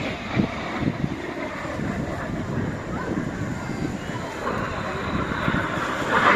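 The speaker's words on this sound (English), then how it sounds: "look directly to your right as the synchro pair run back in with the smoke behind them running in" Jet noise from the Red Arrows synchro pair trailing smoke past the crowd at the 2023 Eastbourne Airshow, a broad continuous roar at moderate distance with an announcer talking over it.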